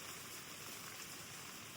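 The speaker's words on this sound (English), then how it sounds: "I don't know how heavy this rain's gonna get. It's sprinkling just right now." Light rain sprinkling steadily outdoors during a still hunt in October, a soft, even, continuous patter of fine drops with no voices.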